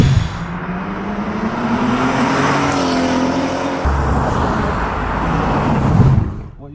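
A tuned BMW M140i drives on the road, its engine droning steadily with a rising pitch as it accelerates, then easing off toward the end; close and loud, with no talking.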